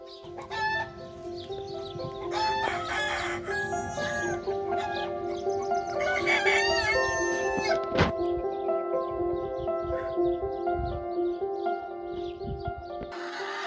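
Chickens cluck and a rooster crows in stretched calls among a lively farmyard chorus of fowl, steady and moderately near, with no talking.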